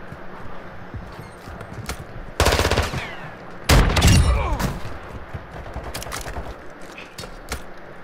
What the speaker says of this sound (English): The shotgun is nasty. It sounds disgusting.